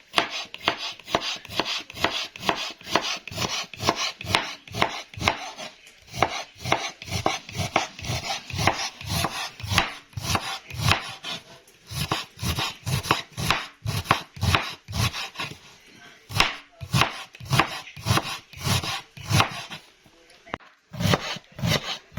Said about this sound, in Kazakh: Капустаны турадым, осындай қылып.